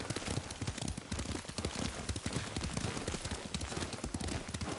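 Horse hooves clip-clop steadily while riding in the samurai video game Ghost of Tsushima, a continuous rapid gallop rhythm under a dense, loud game soundscape, with no talk.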